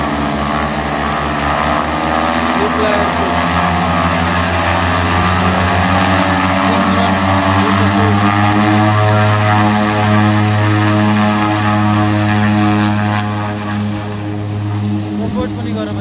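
A small plane's propeller engine drones loudly and steadily on the short runway at Lukla Airport in Nepal, its pitch shifting as it powers up for takeoff, with voices faintly underneath.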